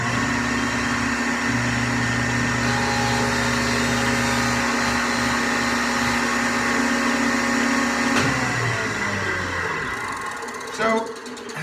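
A table saw cuts a tenon on a dado, its motor humming at a steady high whine that shifts and winds down near the end, followed by a brief knock and rattle.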